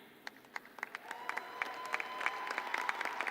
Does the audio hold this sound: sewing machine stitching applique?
no